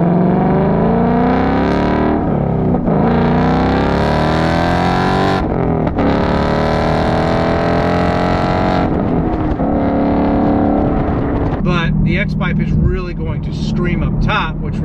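A 2021-22 Ford Mustang Mach 1 with a Corsa double X-pipe exhaust roars and revs while driving, pitch climbing and dropping through gear changes, loud and close, with a voice speaking over it near the end.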